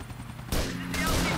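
A sniper rifle shot in GTA IV bursts out as a sudden loud broadband crack about halfway through, followed by sustained rumbling game noise over a low background hum.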